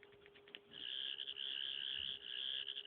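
A Doctor Who sonic screwdriver toy emitting its shark-calling sound: a steady, shrill electronic whine that starts after a few clicks, holds with a slight warble, and stays faint and alone.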